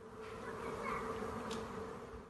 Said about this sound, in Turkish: Bir apartmanın balkon camına konan binlerce arı ise korkuttu.